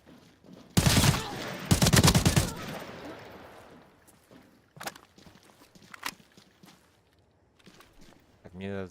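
Players' footsteps running in Counter-Strike 2, with loud bursts of gunfire early on, then scattered lighter steps and thuds under a quiet voice.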